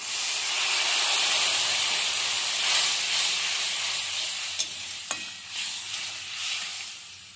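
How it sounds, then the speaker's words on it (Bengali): Water poured into a hot frying pan of turmeric, chilli, coriander and cumin powder being fried produces a steady, close hiss of steam and sizzle, with a couple of sharp clinks near the end. "এবার দিয়ে দিচ্ছি একটু জল।"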